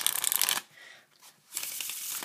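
Playing cards sprung from hand to hand in a spring flourish, two brisk, crisp fluttering bursts of rapid card flicks separated by a short pause, close and fairly quiet.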